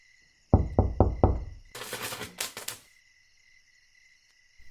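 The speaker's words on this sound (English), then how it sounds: "Visitor, I must insist you stop pounding on the door." Four hard, booming knocks pound on a door in quick succession, followed by a brief burst of rattling noise, then quiet over a steady high electronic hum.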